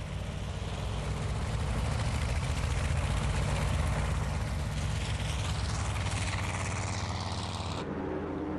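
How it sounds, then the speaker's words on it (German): Engines of torpedo bombers taking off from aircraft carriers in the early morning of 7 December 1941, a dense continuous roar and drone, loud and steady, cutting off sharply near the end. "Am frühen Morgen des 7. Dezember 1941 starten Torpedobomber von den Flugzeugträgern."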